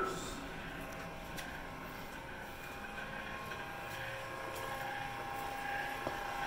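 The motor of a 1965 Stephan Chopper runs in a sealed unit, making a steady, faint mechanical hum and drone that continues unchanged throughout.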